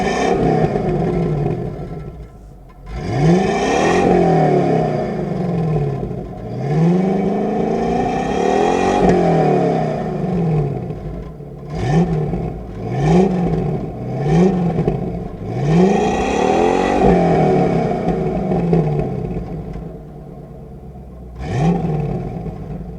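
A 1994 Chevrolet C4 Corvette V8 revs repeatedly at close range, each blip sweeping up and falling back in a smooth, throaty roar over a rumbling idle, with about a dozen revs in quick succession.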